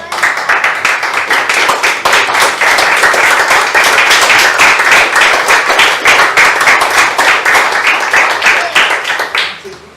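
A church congregation claps steadily during a worship service, a loud, continuous and slightly rhythmic burst of many hands sustained for about ten seconds before trailing off.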